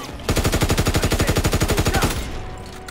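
Rapid automatic gunfire from a weapon in Call of Duty WW2, a loud, close burst of evenly spaced shots lasting about two seconds before cutting off, with no talking.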